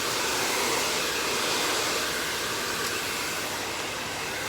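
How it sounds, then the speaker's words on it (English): A RevAir hair dryer blowing hair with a loud, steady, unbroken airy roar close by, holding level throughout with no talking. "So I'm gonna blow dry this forward."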